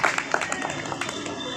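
An audience at a tree-planting closing ceremony claps loudly, a dense patter of hands with a voice heard over it.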